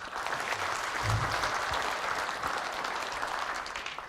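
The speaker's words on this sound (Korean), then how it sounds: "큰 박수 부탁드리겠습니다" An audience at a talk concert applauds, a dense, steady clatter of many hands clapping together that carries on without pause, with no one speaking over it.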